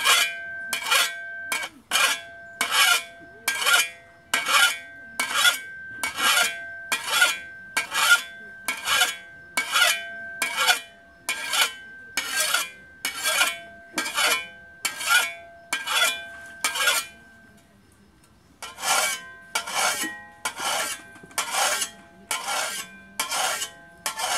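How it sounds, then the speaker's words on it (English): A hand file is dragged across a shovel blade edge in steady, evenly spaced rasping strokes, close and loud, about thirty in all, with one short pause before the strokes resume. "on a shovel you can sharpen on both sides"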